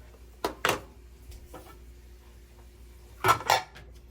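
Crockery and a ladle clink a few times while seaweed soup is served into a bowl for a child's first birthday meal. The sharp knocks come in two brief pairs with quiet gaps between.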